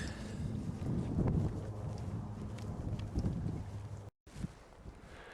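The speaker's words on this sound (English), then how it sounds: "Finally started getting out of this wind." Cold wind blowing across open hillside in the Quantock Hills, a steady low rumbling buffet on the microphone with gusts, briefly cutting out near the end.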